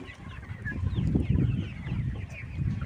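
Layer hens cluck and murmur steadily up close in a small rooftop or backyard flock, a busy continuous chorus with no talking.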